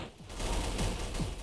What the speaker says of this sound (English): You wait to quiet the gunshots.